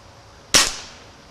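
A single sharp gunshot fired at a target, a sudden loud crack with a short decaying tail, alone against quiet background.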